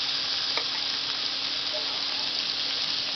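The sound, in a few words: boiled raw banana frying in oil on a hot tawa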